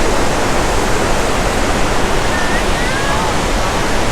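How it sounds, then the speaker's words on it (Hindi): Chitrakoot Waterfalls in Bastar, India, swollen and muddy after heavy rain, roar as a loud, steady broadband rush of falling water, close and unbroken for the whole stretch. "पहुंच चुका हूँ, Niagara false of India, Chitrakoot waterfalls"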